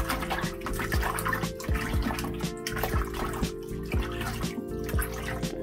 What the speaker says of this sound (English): I've kind of agitated the water, and you can tell where some of this, the strawberries have been cleaned off already.